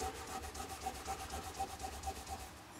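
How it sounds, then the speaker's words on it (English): A Les Paul electric guitar is rubbed by hand in steady rhythmic back-and-forth polishing strokes, a close, dry, even swishing with no voices. "I've been polishing and polishing, and now I'm at the end of it."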